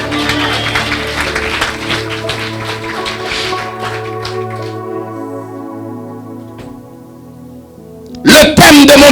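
Sustained organ-like tones fade in a church service, then a sudden loud burst of congregation clapping erupts near the end, close and vigorous.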